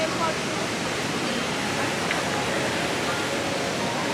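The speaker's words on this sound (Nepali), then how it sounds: "साइडमा खोलाको आवाज सुन्दै सुन्दै एकदम पिसफुल भाइब्स छ" A mountain river rushes beside a trail on the trek from Pashupatinath to Kedarnath, giving a steady, even wash of flowing water that fills the whole stretch without pause.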